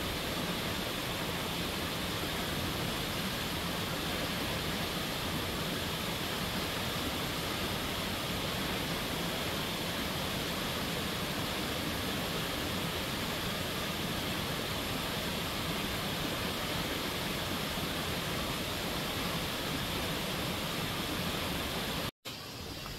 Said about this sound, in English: There's a whole waterfall.